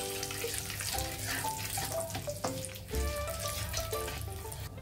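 Whole garam masala, cardamom and cloves fry in hot oil with a steady, close sizzle and occasional small pops and clinks, continuous for several seconds without any talk.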